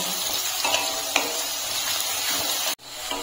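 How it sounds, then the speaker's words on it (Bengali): Chopped onions fry in oil with cumin and bay leaf in a pan, giving a steady, close hiss and sizzle with a few faint crackles before it cuts off abruptly near the end. "পেঁয়াজটাকে আমি একটু লাল করে ভেজে নেব।"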